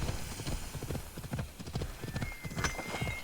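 A video-game horse trots with regular clip-clopping hooves, close and even-paced, while a faint whinny and a thin tonal whistle rise briefly near the end.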